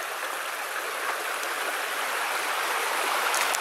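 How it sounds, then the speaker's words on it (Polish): The Łański Potok mountain stream rushes steadily nearby, a continuous bright hiss of flowing water with no pauses or voices. "To jest ten główny ciek tego Łańskiego Potoku"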